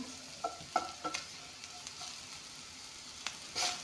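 Boiled green peas and carrots frying in a pan: a faint, steady sizzle broken by a few sharp spatula clicks and scrapes, with no voices.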